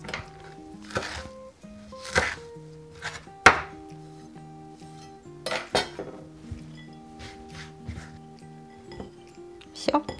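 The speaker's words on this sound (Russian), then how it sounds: "И порубим зелень." A knife chops fresh herbs on a board with sharp, irregular knocks and taps close by, while steady background music plays underneath.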